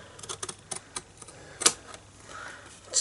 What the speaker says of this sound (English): I'm just going to cut up to the score line, along the score line, just like that